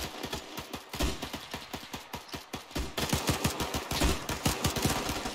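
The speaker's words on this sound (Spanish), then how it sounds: "ya empezó el tiroteo" Rapid gunfire rattles through a war-battle shootout in a video game, with dense bursts of machine-gun shots and single cracks piling up in a continuous, loud, uneven rhythm.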